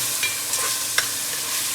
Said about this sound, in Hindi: ये फ्राई हो गया है, इसको इतना ही फ्राई करना था